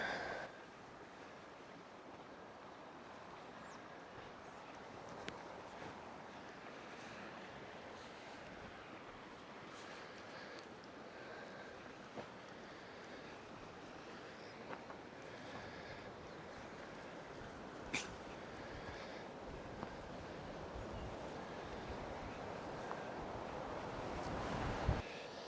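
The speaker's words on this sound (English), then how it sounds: "I was hoping to kind of protect us from that wind, but yeah, it just comes right down the valley" Steady wind rushing down a valley at a dispersed campsite in Idaho, a continuous broadband roar with gusty swells and faint buffeting against the microphone, no talking.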